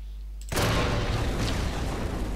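An explosion goes off in the video game Far Cry 3, a sudden loud boom that follows a quiet moment and then rolls into a dense, sustained rumble of debris and noise.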